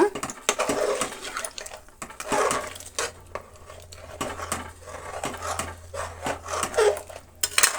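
Scraping and clinking of a utensil against a metal pot as food is stirred, irregular strokes with faint voices in the background.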